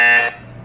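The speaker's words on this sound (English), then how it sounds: "Can we go back to the buzzer?" A quiz buzzer being tested lets out one loud, harsh electronic buzz lasting about a third of a second, then cuts off into quiet room tone.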